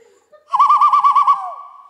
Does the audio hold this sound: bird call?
yes